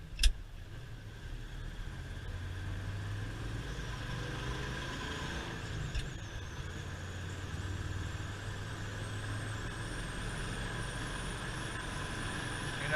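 A 1975 Ford Highboy truck cruising at around 60 mph on the highway, its engine giving a steady low drone with constant road and wind noise throughout, and a brief knock near the start.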